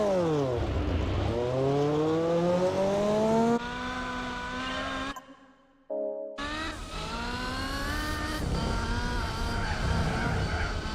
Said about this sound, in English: And that turbo is kicking in big time.